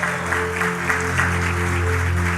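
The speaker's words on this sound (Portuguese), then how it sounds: "Você pode aplaudir ao Senhor Jesus." Church congregation applauding together during a sermon, a steady dense wash of clapping from many hands sustained throughout, with a low musical drone underneath.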